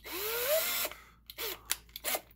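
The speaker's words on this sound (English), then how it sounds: "drill this center post out" A small power drill bores out the center post of a Hot Wheels Redline Custom Camaro diecast car, first a sustained rising whine, then several short bursts and stops, close and fairly quiet.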